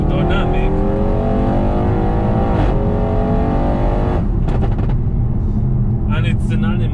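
An Audi RS6 set to dynamic mode growls loudly and continuously from close by, with its engine pitch rising and falling as it revs, and no speech can be made out over it.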